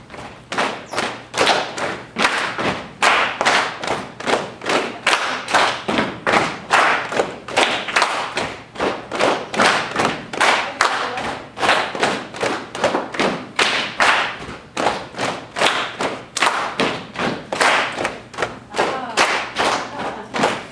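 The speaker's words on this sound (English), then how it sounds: "you can watch and listen as the clap phases around" A group claps in a steady, dense rhythmic pattern, the claps shifting against one another as the pattern phases; sharp, loud, continuous strikes with no talking.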